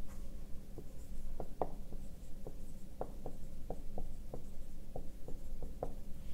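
Marker or chalk writing on a board during a physics lesson, a quiet run of short scratchy strokes and taps repeating steadily over low room hum, with no talking.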